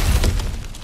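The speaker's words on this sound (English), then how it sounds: "back to smashing through things for fun and profit." Smashing through objects in God of War Ragnarok: one brief, loud breaking crash that sounds like shattering debris, with a low thud at the start and no talk over it.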